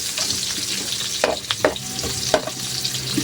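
Garlic, onion and ginger fry in a hot pan for a mung bean dish, giving a steady close sizzle that is broken by several sharp scraping bursts as the mixture is stirred.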